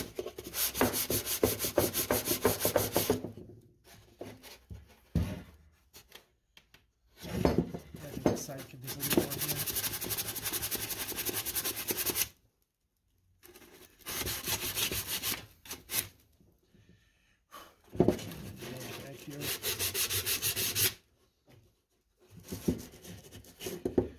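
Hand sanding of a wooden box, giving a relic finish with worn edges: repeated rasping strokes of sandpaper on wood in several bursts separated by short pauses, close and fairly loud.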